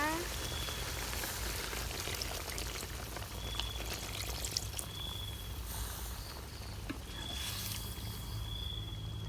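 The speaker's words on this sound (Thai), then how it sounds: "ใส่หางกะทิที่เหลือลงไปเลยนะคะ" Coconut milk pours steadily into a pot with a soft, continuous splashing hiss while a voice speaks faintly now and then, during Thai curry cooking.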